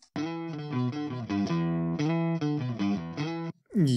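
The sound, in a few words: clean electric guitar tone through TH3 amp simulator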